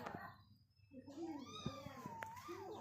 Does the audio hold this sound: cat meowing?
yes